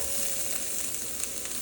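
Garlic fries in a pan with a steady, bright sizzle and crackle that stays close and fairly loud throughout, with no one talking.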